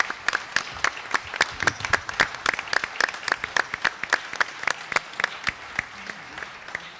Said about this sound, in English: a big round of applause for the Group 5 candidates